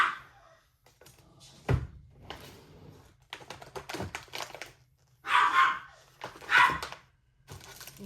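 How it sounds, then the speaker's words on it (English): A dog barks a couple of times at mid-distance, sharp and loud, amid clicking and tapping sounds in a quiet room. "my dog is barking at the cat"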